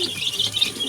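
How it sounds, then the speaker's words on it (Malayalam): Pigeons coo and chirp steadily on a poultry farm where chickens are kept, a dense, continuous flock chorus heard at close range with no talking. "പ്രാവുകൾ ഇവിടുന്ന് നിലവിളിക്കുന്നത്, എനിക്കെന്താ തരാത്തത്, ഞങ്ങൾക്കെന്താ തരാത്തതെന്ന് ചോദിച്ചിട്ടാണ്"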